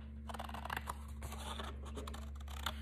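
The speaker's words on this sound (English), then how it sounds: "Just want to cut that rough edge off" The rough edge of a sheet of watercolour paper is cut off in a few faint, close snipping and scratching sounds over a low steady background hum.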